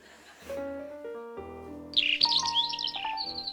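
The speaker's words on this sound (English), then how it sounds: "What's that noise? It's a bird." A small bird chirps in a series of bright, rapid tweets that rise out of a quieter backdrop of faint tones, getting louder and busier toward the end, close and clear with no talking.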